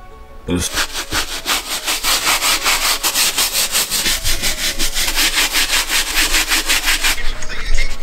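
A small brush scrubs sneakers with Pink Miracle cleaner in quick, rhythmic back-and-forth strokes, a close, dry rasping that starts abruptly and keeps a steady pace for about seven seconds.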